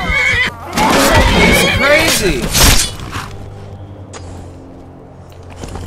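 In the video game Skyrim, a horse neighs loudly up close, a long shrill whinny, then someone speaks briefly and the sound settles into quieter background noise.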